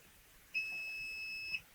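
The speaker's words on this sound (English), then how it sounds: "You press and hold and you'll hear a beep." A single steady electronic beep from a Tesla Model 3 or Y, clean and high-pitched, held for about a second against a quiet background.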